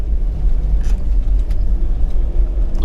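A car drives along the Jericho Track, a dirt track in Thomson State Forest, Victoria, as the throttle is pressed harder, producing a continuous low rumble with gravelly road noise and a couple of brief knocks.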